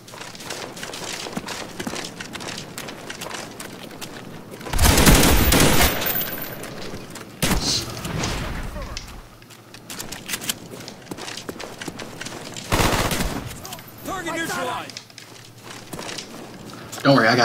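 Gunfire in Call of Duty Black Ops multiplayer against bots, with bursts of rapid shots and bangs among busy game noise, while people talk excitedly over much of it.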